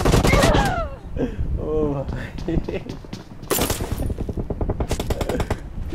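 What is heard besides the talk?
gunfire in the video game PUBG Mobile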